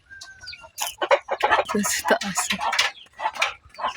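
Pet chickens cluck busily and excitedly while being fed coconut, close by, with a person talking over them.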